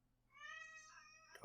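A cat gives one drawn-out, rising meow, fairly close and clear over a quiet room, ending with a short rougher burst at the tail.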